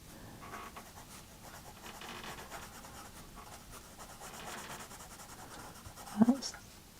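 Pencil shading and colouring on paper with a blunt pencil, for an autumn harvest wheelbarrow picture, a soft continuous scratchy rubbing with faint strokes throughout, ending in a brief louder knock or tap near the end.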